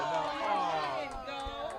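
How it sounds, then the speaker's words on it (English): Softball crowd at a Penn vs Lehigh Division I game groaning in disapproval at a strikeout call: a brief, swelling murmur of many voices that rises and fades. "And the crowd doesn't like it"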